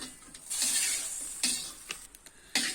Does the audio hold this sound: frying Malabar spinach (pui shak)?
yes